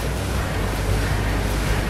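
Ocean waves at a beach, a loud continuous surf roar mixed with wind buffeting the microphone, steady throughout with no talking.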